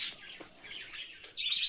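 Many small birds chirp in a bird shop, a continuous high-pitched twittering with brief sharper tweets, moderately faint and with no talking.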